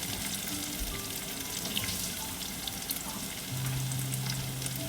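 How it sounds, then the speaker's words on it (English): Ginger sautéing in a pan for fish curry gives a steady, close sizzle with light stirring scrapes, continuous and fairly loud with no voices. "I'm going to allow it to saute again for a little bit, probably about a minute or so"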